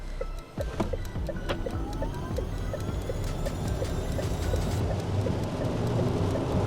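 Steady rain patters and drums continuously around a Deepal S09 car during a test drive, with sharp individual drops over a low rumbling background.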